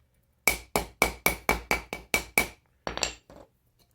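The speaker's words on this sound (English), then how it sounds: "I'll just continue on hammering off the rest" Hammer blows knocking apart a legacy Casablanca ceiling fan during a flywheel and bearing repair, nine sharp metallic strikes in a quick even rhythm, then a few scraping knocks, close and loud.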